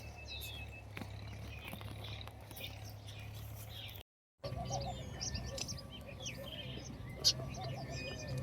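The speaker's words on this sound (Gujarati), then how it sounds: "ચકલીઓ પણ માળામાં આવી ગઈ છે" Sparrows chirping at a nest in summer, with repeated bright high chirps and tweets over a steady low hum, a short dropout partway through, and a sharper call near the end.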